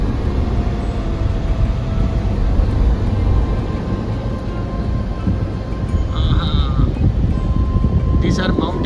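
Sheep bleat now and then in a mountain desert valley as a boy herds the flock, over steady wind noise and a constant background rumble, with people talking nearby.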